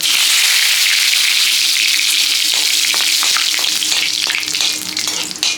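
Cumin seeds and bay leaves hit hot oil with a loud, continuous, hissing sizzle that fades slightly over several seconds, with faint stirring clicks near the end.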